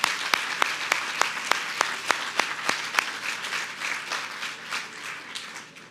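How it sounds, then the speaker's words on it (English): An audience at an evening leadership awards ceremony applauds the honorees, with sharp, evenly spaced claps standing out over a broad wash of clapping that gradually softens and fades. "How about another round of applause for all of our honorees tonight?"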